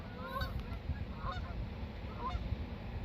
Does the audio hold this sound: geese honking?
yes